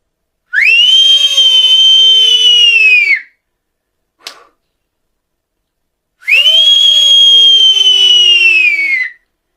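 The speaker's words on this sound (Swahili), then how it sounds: "mwanamke ambaye amepiga mluzi wenye sauti kali zaidi duniani" A woman's world-record loudest whistle, two long piercing shrill blasts of about three seconds each, very loud and close, with a brief faint click between them and no talking.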